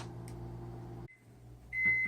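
A microwave oven hums steadily, then falls quiet and gives a short electronic beep, followed by a louder, sustained beep as the hum resumes.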